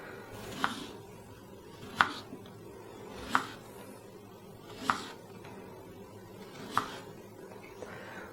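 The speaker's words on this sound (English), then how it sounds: "You just want to thinly slice these." Knife slicing thinly through peeled potatoes on a cutting board, five sharp chopping taps spaced about a second and a half apart, close and clear over a quiet room.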